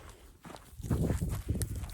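Goats moving about at a donkey, goat and wolf rescue, their hooves giving a run of close, uneven footstep thuds and shuffles that build from quiet to steady over two seconds.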